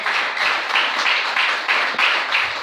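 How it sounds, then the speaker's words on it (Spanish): A church congregation breaks into applause during a Spanish-language service, with sustained, dense clapping rising and falling in waves across a few seconds, with no talk over it. "Denle el aplauso al Señor esta noche."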